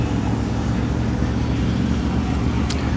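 Engine of a 1973 Chevelle off-road race car at an off-road racing event, a loud, steady, low rumbling drone running unbroken through the whole stretch.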